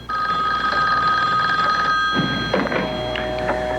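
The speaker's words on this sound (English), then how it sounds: "Their phone began to mysteriously ring." Telephone in a house ringing with steady, sustained electronic bell tones that fill the clip, loud and close, with a brief clatter of handling near the end.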